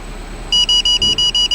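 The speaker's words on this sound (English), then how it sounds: "it now went to full beep because I'm about to hit the vehicle" The parking sensor of a 2008 Mercedes-Benz GL450 4Matic sounds a rapid, repeating high-pitched electronic beep while reversing toward another vehicle, loud and close, in quick evenly spaced pulses.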